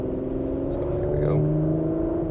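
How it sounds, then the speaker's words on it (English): A 2020 Porsche Macan GTS four-cylinder exhaust pulls away under acceleration, a droning engine tone with rising harmonics, loud and close, with a voice briefly speaking over it. "Good sound also from this exhaust and the port."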